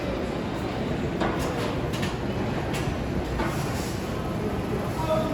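Metro train rolling along with a loud, steady rumble and rail noise from inside the carriage, a few faint knocks and clicks over the continuous roar.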